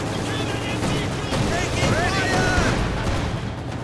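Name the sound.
field gun firing in the video game Company of Heroes 2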